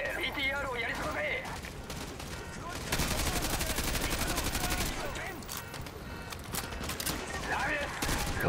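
Rapid automatic gunfire and explosions in the Call of Duty Modern Warfare video game, loud dense bursts over several seconds, with people talking over the action.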